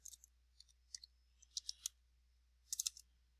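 Light clicking keystrokes on a computer keyboard, entered at a Linux command prompt, come in short irregular bursts, quiet and close, with no talking.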